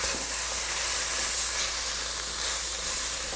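Garlic and ginger sizzle in a hot pot while being stirred, a steady, bright hiss holding evenly throughout, moderately loud with no talk.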